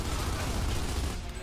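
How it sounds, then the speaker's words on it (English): Dense sustained gunfire from Gears of War 2, fired to shoot out a light, a continuous loud rattling burst with no pauses. "I need to go ahead and shoot the light up"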